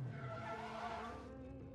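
A red car skids in an animated Marvel What If...? episode, a sustained tire squeal with engine roar that holds steady and then trails off, faint and somewhat distant.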